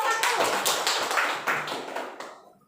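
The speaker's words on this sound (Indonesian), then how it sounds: "Kita beri aplaus ke kelompok" Classroom applause for the first group of students, a burst of many hands clapping together that swells quickly and fades out over a few seconds.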